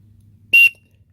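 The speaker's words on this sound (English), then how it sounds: "Here's a good whistle." A single short, shrill blast from a plain pocket survival whistle, loud and close, lasting about a fifth of a second against a quiet background.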